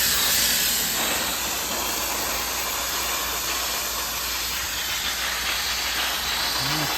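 Compressed air blasting through an AC condenser coil from the inside out, a steady loud hissing rush that holds evenly throughout with no pauses.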